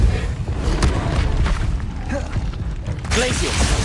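A Depulso spell is cast in the Hogwarts Legacy video game amid dense, loud combat noise, a continuous rumbling wash of blasts and impacts with a fresh surge near the end.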